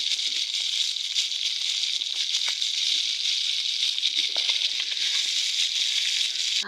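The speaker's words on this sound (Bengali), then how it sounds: "এই ভালো করে একটু হালকা ভাজা দেবো" Steady, bright sizzling of small mola fish lightly frying in oil, with faint crackles and rattles throughout and no voices.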